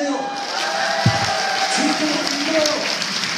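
Lecture audience at a Seoul party-chapter academy talk breaks into a sustained wash of clapping and crowd noise, steady throughout with a murmur of voices mixed in.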